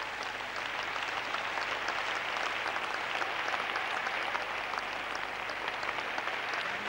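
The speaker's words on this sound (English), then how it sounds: "Give the Lord a clap offering." A church congregation claps together in a dense, steady burst of applause, heard from some distance at a moderate level during a 1996 service.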